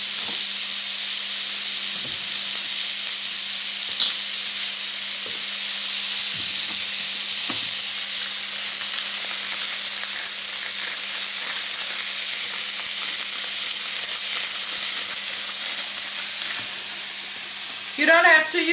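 Vegan quarter pounder patties fry in a pan with a steady, close sizzle that hisses on without a break, a few faint scrapes and taps mixed in, and a short clatter near the end.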